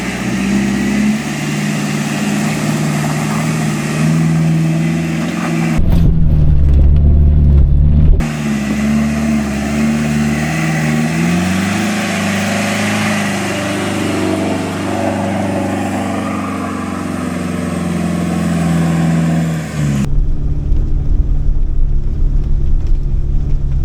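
A capable car grinds along a snowy high country track in Victoria's alpine region during a snow storm, its engine droning steadily up close with a louder revving surge partway through, no talk.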